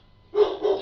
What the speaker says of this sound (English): I just heard your dog barking.